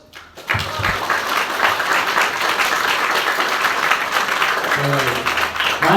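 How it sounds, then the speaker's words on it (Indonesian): Students at a vocational high school orientation assembly in Indonesia break into sustained, loud applause filling the hall, dense clapping running steadily from start to finish with crowd noise beneath. "Kasih aplaus."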